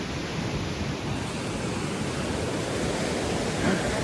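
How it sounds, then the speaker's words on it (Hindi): A loud, steady rush of a rain-swollen river roars continuously, broad and unbroken, close by in Kullu-Manali. "तुम यहाँ पे नदी का फ्लो चेक कर सकते हो भाई"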